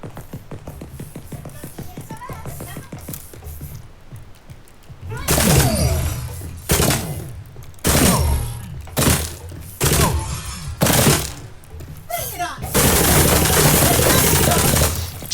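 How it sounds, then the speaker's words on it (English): Gunfire from a video game weapon, used in a boss fight, breaks out in loud repeated bursts and sustained volleys over a low background, with several pauses between the strings of shots. "Let's try this gun."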